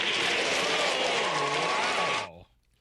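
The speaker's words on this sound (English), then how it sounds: "The crowd gave Lindsey Davis a standing ovation for that question." A crowd at a political town hall giving a standing ovation, a steady wash of applause and cheering that holds loud and even, then cuts off abruptly.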